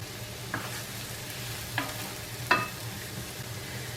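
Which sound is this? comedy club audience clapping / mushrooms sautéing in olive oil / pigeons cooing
mushrooms sautéing in olive oil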